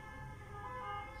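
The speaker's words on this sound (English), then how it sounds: "Sorry about that siren." An emergency siren wails faintly from somewhere outside, a distant, steady tone sitting over a low background rumble.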